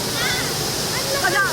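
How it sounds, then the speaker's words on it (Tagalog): Water rushes steadily at Tipakan Falls in Cavinti, Laguna, a continuous broadband roar with faint voices mixed into the flow. "Lumalakas na ang pressure ng tubig."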